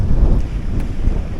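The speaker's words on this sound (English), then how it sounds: "Hope you can hear me, it's very windy." Strong wind buffets the microphone on a mountainside in the Cairngorms, a loud, steady low roar with gusty swells lasting the whole short moment, with no voice over it.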